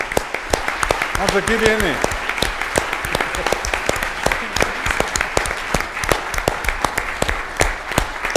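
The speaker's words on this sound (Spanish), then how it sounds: "un aplauso para él" Theatre audience applauds at a celebration honoring H. P. Lovecraft, loud, close clapping with distinct individual hand claps standing out from the crowd, sustained throughout while a voice briefly speaks early on.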